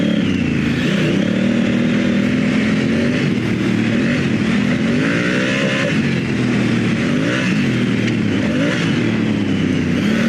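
A motorcycle on Michelin Anakee adventure tires climbs a road at speed, its engine droning loud and close with rising and falling revs throughout, heavy wind rush over the top.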